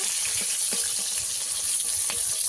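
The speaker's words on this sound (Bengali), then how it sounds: "এই মাছগুলো আমি হালকা করে ভেজে নেবো।" Gang batar fish frying lightly in oil in a pan, giving a steady, fairly loud sizzle throughout with a few faint clinks and scrapes, and no talk.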